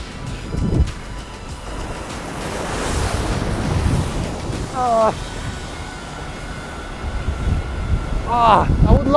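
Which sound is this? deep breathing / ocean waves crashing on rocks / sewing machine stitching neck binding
ocean waves crashing on rocks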